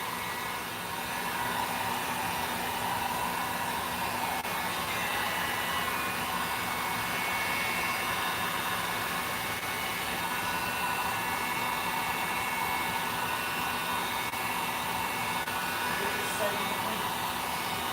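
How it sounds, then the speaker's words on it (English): A heat gun on a lower setting dries paint on a craft figure, giving a steady, loud, continuous blowing roar that holds constant for the whole stretch with no pauses. "One of the rare times you'll see me use a hot glue gun, a heat gun, not on high."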